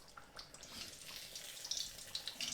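Hot water and cooked burgers or fishcakes being drained through a small colander in a kitchen, producing a faint, uneven splashing trickle and patter that runs throughout.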